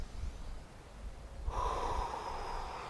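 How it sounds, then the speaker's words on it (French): Loud breathing during yoga practice, a steady close airy rush that swells into a stronger forceful exhale halfway through, with no talking. "Respiration."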